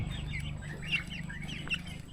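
Rhode Island Red chickens cluck and chirp in short, scattered calls over a low, steady hum, several birds close by.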